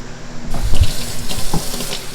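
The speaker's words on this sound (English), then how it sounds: "Put it under the water, wash it out real good." Tap water runs steadily into a sink while a freshly processed farm turkey is rinsed out under the stream, a close, continuous splashing rush with small shifts as the bird moves.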